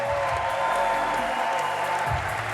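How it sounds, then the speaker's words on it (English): An audience at a freestyle trampoline world championship applauds the athletes with steady, dense clapping and some crowd noise, continuous throughout. "can we please give one more round of applause to our athletes?"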